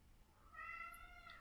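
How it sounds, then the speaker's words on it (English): A cat meows once, a faint, drawn-out, rising and falling call heard alone over quiet background noise. "That's a cat."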